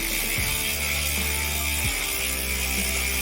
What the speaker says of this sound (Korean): 이 소리는 이렇습니다 라쳇 소리라고 그러죠